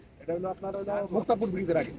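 Pigeons kept at a loft near Narayanganj, Bangladesh, coo in a run of repeated, close, throaty calls with a low, warbling, resonant tone across about two seconds.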